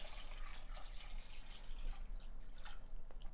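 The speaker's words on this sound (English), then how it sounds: "now I'm gonna add enough water so I'm just covering them" Water is poured over Jolly Rancher hard candies until they are just covered, making a steady, close trickling and splashing that runs unbroken throughout with no talking.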